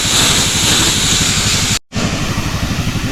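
A handheld sprayer hisses steadily while spraying pumpkin plants at a hut in the field, loud and close, with a brief break near the end before the spray resumes.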